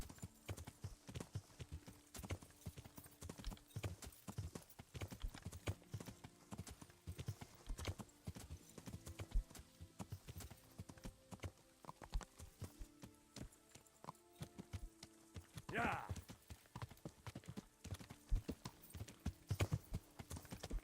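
Horse hooves clip-clop steadily as a rider travels in first person in Kingdom Come Deliverance, a continuous rhythmic trot heard faintly and evenly throughout.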